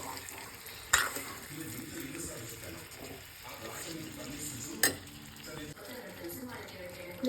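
Amla pickle spices with salt and chili powder cook in oil, a soft continuous sizzle with occasional sharp clinks of a stirring spoon against the pan, fairly quiet and close.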